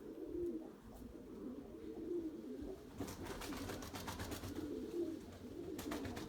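Soft repeated cooing of pigeons or doves, low and rhythmic, with faint clicks and rustles in the background.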